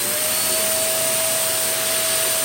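Shark vacuum cleaner running at full power during a suction test, a loud, close, steady roaring whine with a constant high-pitched tone.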